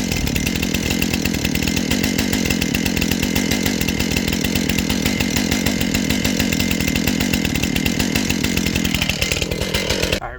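A STIHL MS 271 Farm Boss chainsaw runs loud and close in Alaska, holding a steady high-pitched buzzing drone for about nine seconds before the engine drops off at the end.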